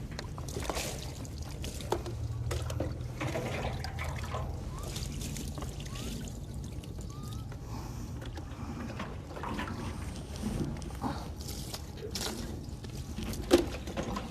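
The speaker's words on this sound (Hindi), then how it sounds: "ये 3 दफ़ा हम पानी इस तरह से बहा देंगे" Water pours and trickles steadily over a body during Islamic ritual washing of the deceased, a soft continuous splashing and dribbling with faint shifting sounds, heard up close throughout.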